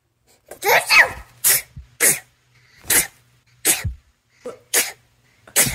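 A cat sneezes repeatedly, about six or seven sharp bursts in an irregular rhythm, close and fairly loud, with a low hum underneath and no talking.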